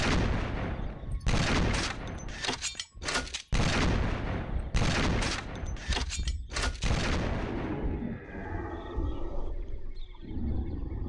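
A shotgun fired in the video game Carnivores Genesis, several loud, close booming blasts in quick bursts, then a deep animal roar as the shots fade away.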